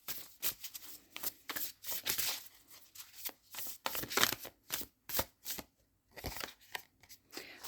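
Inner child oracle cards are shuffled by hand, a steady run of soft, close riffling slaps and flutters with short gaps between them, with no talking.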